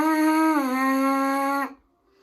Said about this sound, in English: The first step to being able to play any note on a trumpet is to get a correct buzz on the mouthpiece.